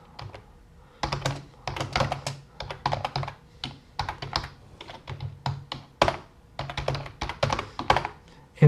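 Quick, close clicking of a computer keyboard as Python code is typed, short bursts of keystrokes with brief pauses between them and no voices.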